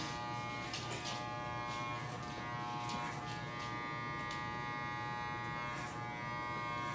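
Electric hair clippers buzz steadily while shaving a man's hair at home, a close, continuous hum with small changes in tone as the blade moves over the head, and no talking.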